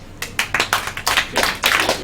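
A short burst of applause from a small comedy club crowd, loose clapping that swells in uneven waves for a couple of seconds.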